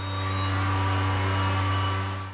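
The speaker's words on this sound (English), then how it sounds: "This is the ambient noise of enemies." Enemy ambient noise from a VR game: a constant low droning hum with layered tonal harmonics, steady and loud throughout before fading at the end, an eerie electronic ambience.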